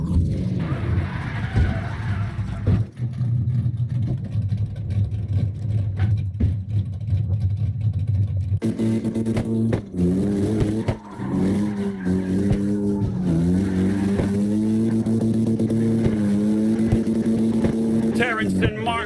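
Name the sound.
cars drifting in tandem, CarX Drift Racing Online video game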